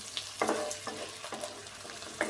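Chopped green chili and ginger frying with onions in a pan for methi aloo sabzi, a soft sizzle broken by several quick stirring scrapes, close and fairly quiet.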